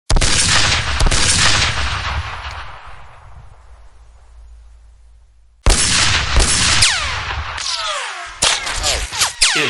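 Gunfire in a shootout: loud, sharp shots crack in close succession, a lull trails off into low rumble, then another flurry of shots follows with whining, ricochet-like streaks.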